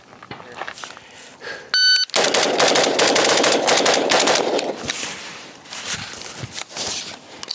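A PSA JAKL rifle fires rounds at targets on an outdoor range, a loud rapid string of sharp shots after a short electronic timer beep, followed by scattered quieter reports and bangs.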